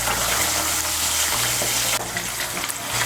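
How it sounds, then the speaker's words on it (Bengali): Pabda fish fry in mustard oil in a pan over high heat, giving a loud, steady sizzle and crackle that holds throughout with no voices. "এখন আমি মাছগুলোকে ভেজে নিচ্ছি"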